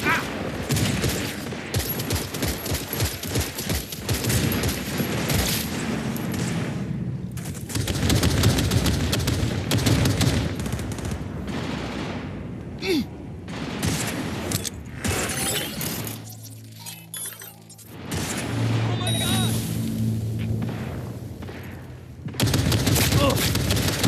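Gunfire in the video game Cyberpunk rattles in dense, loud bursts with crashes and shattering mixed in, broken by a short lull, with voices talking over parts of it.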